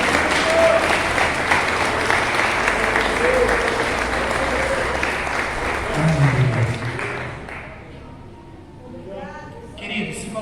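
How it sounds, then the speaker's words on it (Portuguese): A church congregation at an evening evangelical service claps together in praise: dense, sustained clapping that thins out after about eight seconds, with voices mixed in and some scattered claps near the end. "Nós podemos louvar ao Senhor com palmas agora."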